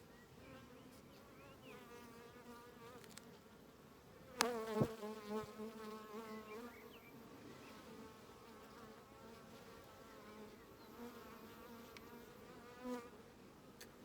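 Bees buzz steadily and closely, a dense droning hum with a brief louder burst partway through.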